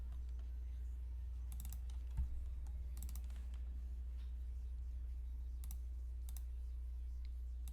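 Typing on a computer keyboard while working in AutoCAD, sparse bursts of light key clicks at a moderate distance over a steady low hum, with no speech.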